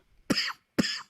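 Two sharp, close coughs from a person waiting in a hospital triage line, about half a second apart, each with a harsh raspy tail, with no talking around them.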